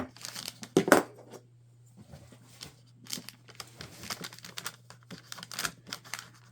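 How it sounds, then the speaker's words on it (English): A bag filled with Dollar Tree advent calendar items is folded over, giving close crinkling and papery rustles in short bursts over a low steady hum. "And then fold your bag over"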